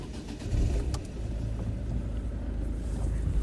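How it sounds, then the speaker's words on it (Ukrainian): A 2010 Volvo V50 1.6 diesel car engine turns over and catches, settling into a low rumbling idle close by with some wind buffeting, no talking. "Заглушили, заводимо ще раз"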